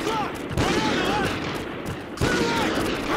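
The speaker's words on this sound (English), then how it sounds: "Use the remote sniper. We'll breach on your shot." Gunfire bursts in a Call of Duty Ghosts breach as a remote sniper rifle fires, two sharp loud shots followed by rattling shots and chatter of weapons, with voices calling out in the mix.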